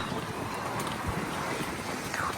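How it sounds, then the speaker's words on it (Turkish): Wind blows steadily at a seaside holiday spot in Datça, Turkey, as a continuous broadband rush that buffets the microphone at an even level with no speech. "burası var ya bir esiyor"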